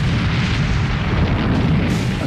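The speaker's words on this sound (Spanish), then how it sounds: "De nuevo otra ráfaga." The battleship Bismarck fires a naval gun salvo at HMS Hood, a loud, continuous low rumble of heavy gunfire that fills the whole moment without pause.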